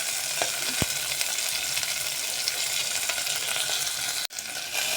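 Curry leaves sautéing in a pan while masale bhat is cooked, an even, close hiss of frying with a few soft clicks and one sharp knock near the end; no talking.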